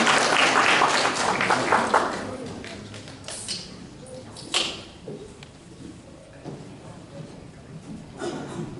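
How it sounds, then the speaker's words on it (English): At a VietFest press conference, a small audience applauds two guests brought up front, a brief burst of clapping that quickly thins to scattered claps, shuffling and murmured voices. "Give them a round of applause."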